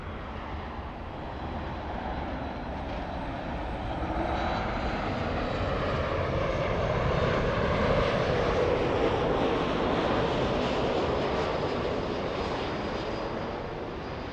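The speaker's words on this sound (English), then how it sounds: "Alaska 1408, flying in from Everett, Washington, a 737 MAX 8, a 2-hour flight to LA" An Alaska Airlines Boeing 737 MAX 8 inbound from Everett, Washington to Los Angeles passes directly overhead with a loud, sustained jet roar that swells toward the middle and stays strong, with no talking over it.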